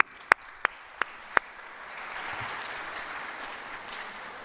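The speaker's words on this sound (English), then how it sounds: "So please, a round of applause for the global team and what they've done with TADHack" Audience applause for the TADHack global team at a Lisbon hackathon gathering, starting after a few sharp isolated claps and swelling into a steady, moderate wash of clapping from the crowd.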